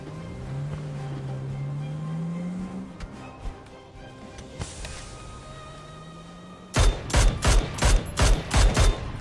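A Mini-14 rifle fires in a PUBG match: a rapid run of about eight loud, punchy shots near the end. Quieter in-game ambience and a low droning hum come before the shots.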